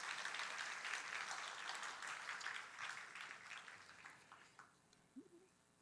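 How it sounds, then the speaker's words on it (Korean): A church congregation gives welcoming applause, a dense wash of clapping that gradually thins and fades out to scattered claps at the end. "우리 환영의 박수 하십시다."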